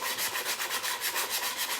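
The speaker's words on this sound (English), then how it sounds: "So I use the 80 grit for the edges because it reveals the wood quicker" Rhythmic back-and-forth scratching of coarse 80-grit sandpaper on wood edges, steady and close, about seven strokes per second.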